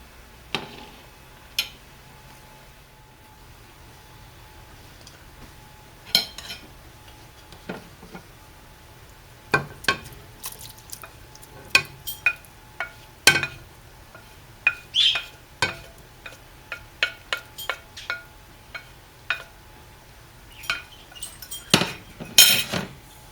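Scattered clinks and scrapes of a utensil against a metal pot as deboned meat is added back in, irregular knocks and taps with quiet gaps between them.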